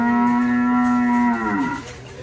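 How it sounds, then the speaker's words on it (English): A single long cow moo, loud and close, holding a steady low tone before sliding and fading away at the end, heard on its own without talk. "It's a cow."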